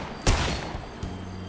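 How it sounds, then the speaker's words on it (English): Gunfire in the Fortnite video game, a loud burst of shots at the start followed by a fainter single report, heard alone. "Wait, I'm getting shot from, behind."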